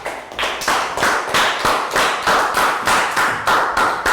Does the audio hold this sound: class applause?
yes